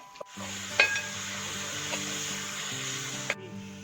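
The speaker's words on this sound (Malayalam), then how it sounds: "ഇഞ്ചിയുടെയും പച്ചമുളകിന്റെയും വെളുത്തുള്ളിയുടെയും ഒരു പച്ചക്കുത്ത് മാറുന്ന വരെ നമ്മളിത് വഴറ്റിക്കൊണ്ടിരിക്കുക" Ginger, green chilli and garlic sautéing in a pan, a steady close sizzle with occasional scraping stirs and a couple of light utensil knocks.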